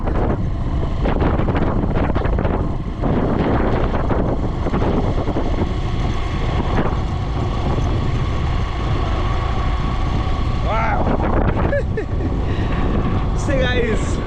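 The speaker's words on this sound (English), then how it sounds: "Actually, I'm in my motorbike right now." Strong, steady wind rushes over the microphone while riding a motorbike through village roads, a continuous loud buffeting roar with a voice faintly talking underneath.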